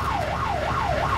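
A siren yelps in quick, repeated up-and-down cycles, steady and moderately loud, with no voices.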